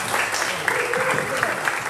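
An audience at a quality-of-life community forum breaks into applause, a brief, loud burst of clapping with some voices mixed in underneath.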